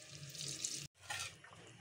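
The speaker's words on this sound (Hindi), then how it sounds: "अब इसके अंदर हम 2 गिलास पानी ऐड कर" Water poured from glasses into a pot of cooking dal gosht (chicken and chana dal), a close, splashing pour in two bursts separated by a short pause.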